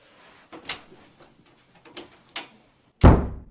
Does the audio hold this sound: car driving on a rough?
no